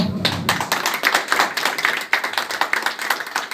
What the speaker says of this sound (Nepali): सबैजनाले ताली मार्नुहोला।